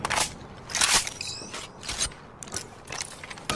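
Weapon reload in Apex Legends: a series of sharp mechanical clicks and clacks, magazine and bolt sounds spaced irregularly, close and moderately loud with no talk.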